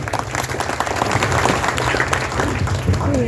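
An audience at a Congress party corner meeting for a municipal council election gives sustained, loud applause for a speaker, with dense clapping throughout.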